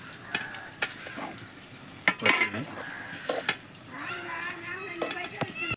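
Prawn curry being stirred in a pan, with a spoon scraping and clinking against the metal at irregular intervals over a soft sizzle, while someone talks throughout.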